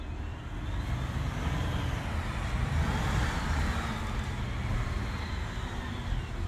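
A 2023 Ford F-150 pickup engine rumbles deeply outdoors, its exhaust note rising steadily as it accelerates, heard from close by.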